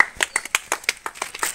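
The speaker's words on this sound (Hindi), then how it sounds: "बोलू के लिए जोरदार तालियां एक बार बजा" Clapping from an audience at a children's biscuit-eating competition, a quick run of sharp, distinct claps at close range, fairly loud and rhythmic with no talk over it.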